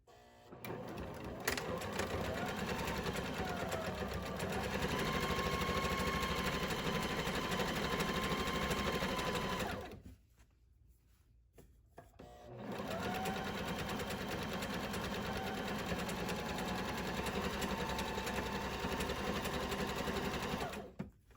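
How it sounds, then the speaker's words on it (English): Sewing machine stitching a seam on a hobo tote bag runs steadily and loudly, stops for about two seconds, then resumes its continuous whirring hum. "And you're going to sew all the way up to this very point here."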